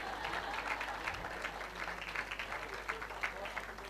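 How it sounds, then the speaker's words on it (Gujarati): A crowd claps slowly and faintly at a gathering, a steady patter of many hands heard from a distance. "તાળી ધીરે ધીરે વગાડશો તો એ પણ ધીરે ધીરે આવશે"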